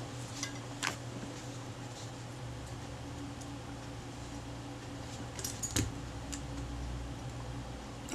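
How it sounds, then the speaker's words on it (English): Steady low hum and whir of two computers running in a workshop room during a camera repair, a continuous near background drone with a few faint clicks and small tool sounds over it. "I've got two computers running in this room."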